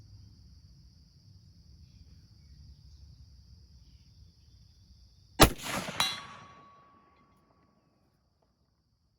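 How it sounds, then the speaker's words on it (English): A single sharp, loud crack from a .308 Winchester rifle firing a 180 grain bullet outdoors, ringing out and fading over a couple of seconds after a steady insect-like hum and a quiet low rumble. "And now let's do our second shot."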